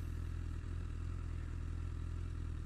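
A motorcycle carrying a passenger on the back gives a steady, continuous engine drone with a faint clatter, loud and unbroken throughout, with no talking.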